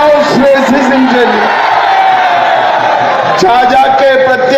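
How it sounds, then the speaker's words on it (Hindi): A large crowd at an Amit Shah political rally in Jamui, Bihar, roars and cheers continuously, loud and dense, with shouting voices rising above the din. "ताली बजाओ श्रेयसी सिंह जी"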